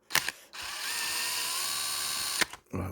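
A cordless electric drill runs in one steady burst of about two seconds, loud and close, while work is done on a Kyosho FW-06 1/10 nitro RC car, with short clicks just before and after.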